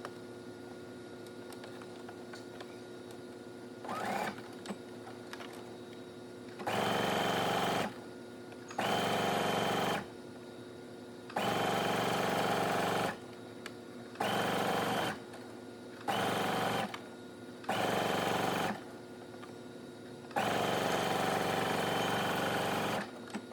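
A sewing machine top stitches a hoodie in repeated bursts of a few seconds each, separated by short pauses, with a steady close whir during each run and no talking.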